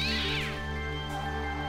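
A cat meows in a DS Castlevania video game, one drawn-out tonal meow that slides downward and trails off, clear and close, with no talking over it.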